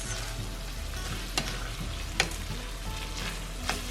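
Pumpkin dish being stirred together with sauce in a pan, a steady low sizzle of frying under a few sharp spoon scrapes and clinks, close up with no talking.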